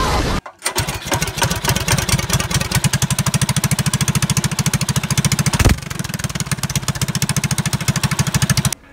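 A kart engine with a Stage 1 tune starts after a brief moment, then runs loud and close with a rapid, even chugging beat, revving briefly around the middle before settling back to a steady pulse.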